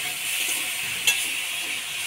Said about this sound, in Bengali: এবার দিয়ে দেবো পরিমাণ মতো হলুদ, স্বাদ মতো লবণ দিয়ে নাড়াচাড়া করে নেব।